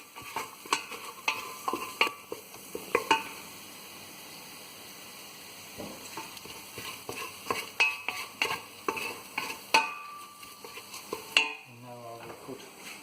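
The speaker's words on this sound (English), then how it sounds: "now the pastes, the powders will roast a little bit" Spice pastes and powders roast in a pan for an Indian-style lamb curry, with a spoon scraping and stirring in repeated short strokes over a low steady sizzle, plus occasional clinks against the pan.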